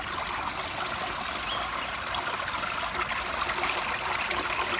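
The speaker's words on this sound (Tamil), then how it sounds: "இந்த தண்ணி ஓடுற சத்தம் கேளுங்க" Water from the Sastha Kovil waterfalls near Rajapalayam rushes down a stream in a steady, loud, unbroken hiss, heard up close with no voices.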